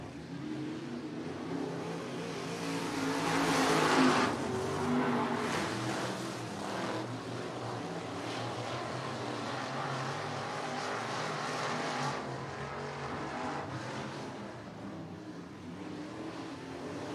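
Micro sprint race cars roar around the Sunset Speedway Park track in a Pacific Micro Sprint Association race, a continuous loud engine drone that swells as the pack passes close near the start, then holds steady with revving.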